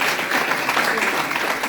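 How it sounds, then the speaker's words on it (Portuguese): A church congregation applauds in a dense, steady burst of clapping that fills the room for under two seconds, with no distinct voices on top. "Você pode aplaudir a Ele?"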